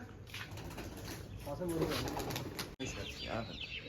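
Pigeons flapping their wings in flight amid steady outdoor noise, with occasional soft cooing and a voice talking in the background.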